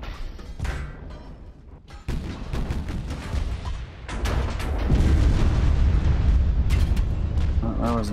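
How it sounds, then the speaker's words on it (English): A torpedo strikes a warship in Ultimate Admiral: Dreadnoughts, with deep booming blasts and rumbling battle noise that swell into a sustained loud roar, and a voice speaking over it. "Another torpedo hit that I didn't see."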